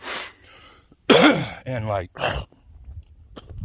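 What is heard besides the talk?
persistent cough and throat clearing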